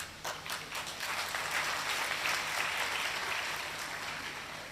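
A crowd audience at a speech event in Aligarh breaks into sustained applause, a dense wash of clapping that holds steady for several seconds before easing slightly.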